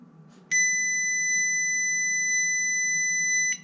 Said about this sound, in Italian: tenere premuto il pulsante power fin quando la centrale non emette un bip lungo